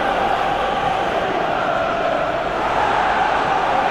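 A frustrated football stadium crowd in PES 2021 roars and groans as a steady, dense wash of many voices, loud and unbroken, with no clear single speaker.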